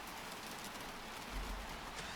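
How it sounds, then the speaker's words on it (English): Steady, soft rain hisses in the Gold Rush mining game, an even, faint wash of falling drops with a brief low rumble near the end. "Wish the rain would stop, but that's not going to happen."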